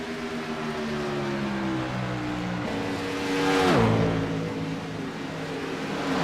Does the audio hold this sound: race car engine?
yes